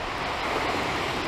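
Big sea waves wash against the shore in rough, rainy conditions, heard as a brief, loud, broadband roar of surf.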